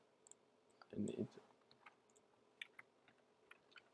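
A computer keyboard is typed on in scattered quiet clicks, with one louder dull thump near the start, faint throughout.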